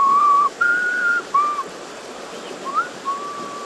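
A person whistles a few short, clear notes with brief pauses between them, fairly close and alone over a faint background hiss.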